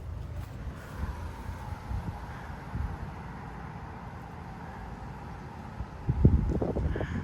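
Strong wind gusts of around 30 mph in a front yard in Frisco, Texas, with bald cypress, oak and holly trees: steady rushing air buffets the microphone, swelling into a louder, rumbling gust near the end.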